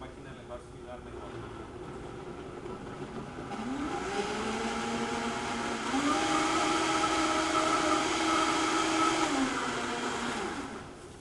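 A high-powered blender crushes frozen bananas, a steady loud motor whine that rises in pitch midway and holds strong, with talk faintly underneath.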